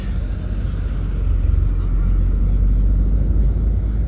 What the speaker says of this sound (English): there goes that Supra leaving